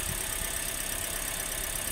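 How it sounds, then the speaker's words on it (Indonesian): A travel car's engine runs steadily at idle, a constant close mechanical hum and hiss with no breaks. "Dengarkan suara mesinnya"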